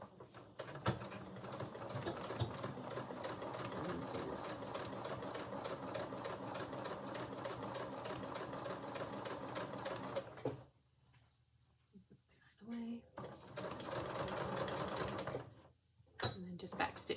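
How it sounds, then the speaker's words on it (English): A sewing machine stitches a half-inch seam allowance on a dress with a steady, close mechanical whirr for about ten seconds, then falls quiet before running again in short bursts. "I will just want to stitch a 1/2 inch seam allowance along there"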